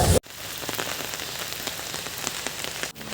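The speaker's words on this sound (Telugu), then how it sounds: "వర్షం అయితే ఎక్కువగానే పడుతుంది" Heavy rain pours down in a dense, continuous hiss, with drops pattering loudly on nearby surfaces and no voices.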